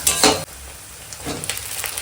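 Onion and green chilli frying in an iron wok, a brief burst of sizzle followed by a quieter crackle with light stirring scrapes, short and close.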